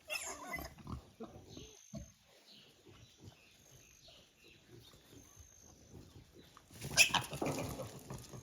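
Pigs grunt in short, irregular bursts on a hilly New Zealand dairy farm that also keeps Friesian and Jersey cattle; the grunts are moderately close, with a louder, busier flurry toward the end and no talking.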